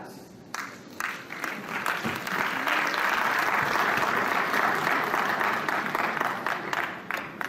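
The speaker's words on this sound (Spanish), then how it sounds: "le recibimos con un fuerte aplauso" Audience at an education congress applauding a speaker as they take the stage, a steady dense wash of many hands clapping that swells quickly and holds strong for several seconds before easing slightly.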